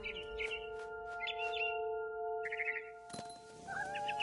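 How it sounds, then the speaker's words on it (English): Small barn swallow chirps and short twittering calls in the video game What Remains of Edith Finch come in quick bursts over a steady electronic hum, with a brief cat-like call near the end. "Then I heard chirping outside my window. It was a barn swallow going back to her nest."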